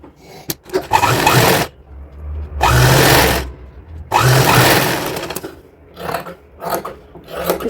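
A sewing machine stitches the lining into a designer dress for a 4-to-5-year-old girl. It runs in three long, loud whirring bursts, then several shorter runs, with pauses of fabric handling between them.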